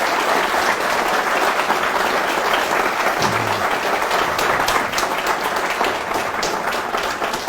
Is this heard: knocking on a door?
no